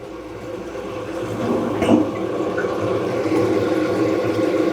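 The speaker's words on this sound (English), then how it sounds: "Okay, tank is filling up." Water rushes steadily into a toilet tank refilling after a bidet installation, a continuous close hiss and gurgle that swells slightly partway through and carries on without talk.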